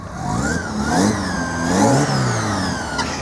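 Porsche cars rolling in to a large Porsche show, with engines audible throughout as they pass and rev, medium-pitched motors rising and falling in a continuous flow of passing traffic, fairly close.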